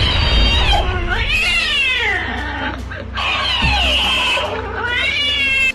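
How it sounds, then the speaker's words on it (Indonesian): A cat fights with a rat, loud and close, with a continuous harsh caterwauling yowl that rises and falls in long drawn-out wails and barely pauses for the whole stretch. "Ini si kucing sedang berantem dengan tikus."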